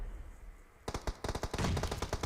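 Rapid automatic gunfire in the PUBG Mobile battle royale game during an esports scrim match: a quiet lull, then a dense string of close, sharp shots cracking in quick bursts until the end.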